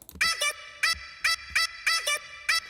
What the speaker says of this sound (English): did a little chop, so it sounds like this